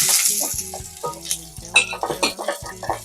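Parotta laid into a hot kadai of oil sizzles and spits with a dense, crackling hiss, broken by several sharp metallic scrapes and clinks of a utensil against the pan.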